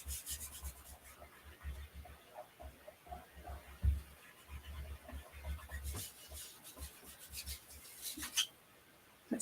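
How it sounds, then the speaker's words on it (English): A chalk transfer design being burnished, a soft close rubbing and scratching in irregular short strokes, quiet and alone, with a few louder scrapes. "So I just need to burnish around the rest of the design."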